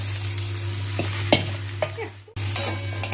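Okra fries in a pan, stirred with a few scraping knocks over a low steady hum and faint sizzle; the sound cuts out briefly near the end, then resumes.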